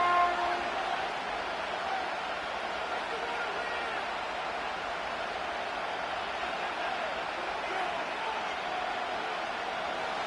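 Stadium crowd at Arrowhead in Madden 25 roars as a steady, broad wash of noise that stays loud and unbroken throughout, with no clear voices standing out.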